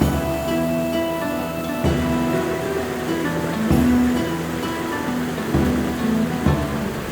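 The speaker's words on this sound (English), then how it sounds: "I am near the waterfall." A waterfall near a bridge on the Watkin Path up Snowdon pours in a steady, dense rushing roar, loud and close throughout with no talk.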